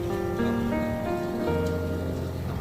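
Rain falls on a Korean rice paddy, a steady, dense hiss that continues without break, with faint tonal hum lines beneath it.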